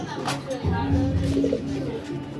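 A Lahori pigeon coos low and close in a brief rolling phrase, with a voice speaking over it.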